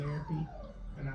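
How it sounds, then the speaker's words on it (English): A dog whimpers and yips in short, whiny bursts close by, with a pet cockatoo in the room. "You hear the doggy?"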